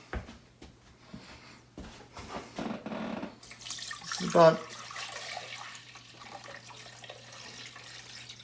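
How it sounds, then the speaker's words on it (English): Milk poured into a pot holding a clove-studded onion, a brief close gush of liquid midway after some handling noises, then a quieter trickle settling under a steady low hum. "we're going to pour on our milk"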